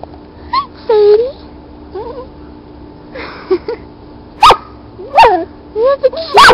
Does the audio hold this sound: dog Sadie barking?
yes